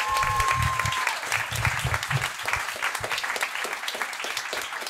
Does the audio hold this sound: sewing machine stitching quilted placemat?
no